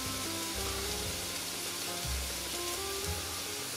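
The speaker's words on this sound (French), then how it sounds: "Même lorsque ça grille dans l'huile d'olive comme ça avec l'ail" Garlic and dulse flakes sizzling in olive oil in a pan, a soft, steady crackle with faint low stirring bumps, close and unbroken.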